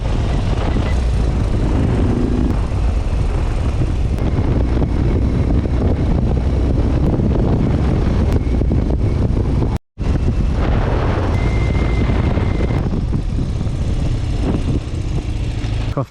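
Motorcycle riding through Scotland in freezing, wet conditions, with heavy wind buffeting the microphone over a steady engine drone throughout, broken by one brief dropout midway.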